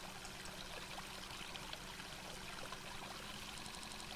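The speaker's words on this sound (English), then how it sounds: "There's pretty water sound though in the fountain in this location" Steady fountain water flowing and trickling in a location in the Sinespace virtual world, a continuous even wash of splashing that stays at a constant level throughout with no voices.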